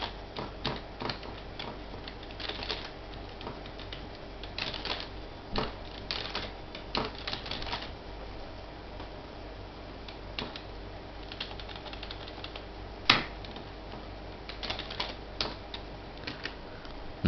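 Keys clack on a computer keyboard as spreadsheet data is entered, faint scattered taps in small irregular clusters over a quiet background, with one sharper isolated stroke.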